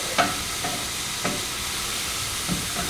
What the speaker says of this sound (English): Our mushrooms are cooking down really nicely